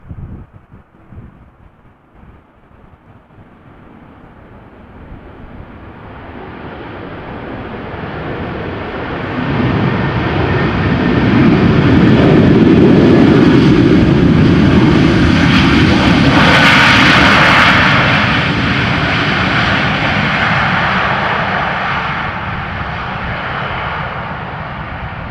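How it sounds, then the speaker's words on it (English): A British Airways airliner arriving from London Gatwick lands in a strong crosswind at Amsterdam Schiphol after a storm, its engines swelling from a distant rumble into a loud, sustained roar that lingers as it passes, with wind buffeting the microphone. "This British Airways arriving from London Gatwick."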